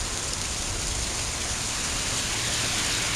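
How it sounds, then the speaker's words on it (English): Hard, heavy rain falls in a dense, unbroken roar of water pounding down, steady and loud from start to finish with no voices. "It's because it's raining so hard."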